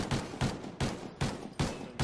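Rapid video-game gunfire in a search-and-destroy match: five sharp, evenly spaced shots crack out loud and close, each with a short decaying tail.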